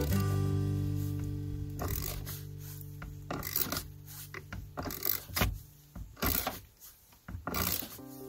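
A socket wrench ratcheting on a truck bolt makes close, intermittent bursts of rasping clicks, with short pauses between strokes.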